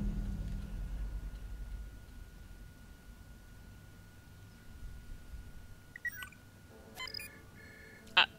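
A phone ringing in the video game Save Koch, brief electronic tones and beeps arriving late after a low rumbling stretch, moderately loud and close.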